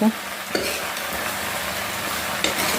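Okra and onions fry in a pan with a steady sizzle, while a utensil stirs through them, scraping a few times against the pan.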